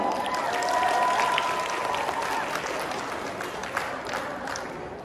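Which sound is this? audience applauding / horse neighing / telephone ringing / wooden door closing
audience applauding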